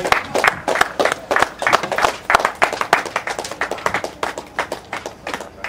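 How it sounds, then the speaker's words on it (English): A crowd applauding at an anniversary commemoration ceremony, dense rapid clapping sustained throughout, fairly loud and close. "Let's give them a round of applause"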